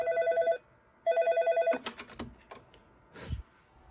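On a bridged Cisco intercom phone system, two short repeating ring tones sound, then a quick run of soft key clicks as an extension is dialed, all quiet and close.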